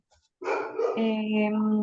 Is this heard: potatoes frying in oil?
no